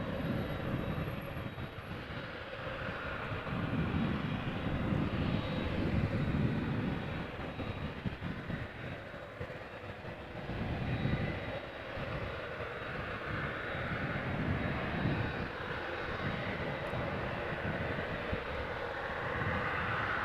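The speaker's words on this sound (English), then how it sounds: "It's going to be followed by a 777-300ER arriving from Vancouver, Canada" A Boeing 777-300ER arriving from Vancouver at Amsterdam Schiphol, a distant, fairly faint low engine rumble and airy rush that rises and falls gently over a steady outdoor background, with no voices.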